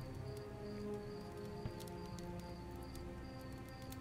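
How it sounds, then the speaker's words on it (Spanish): Rain falls in the video game Starbound as a soft, continuous patter, faint and unbroken, with no one speaking. "¿Cómo entra la jodida lluvia?"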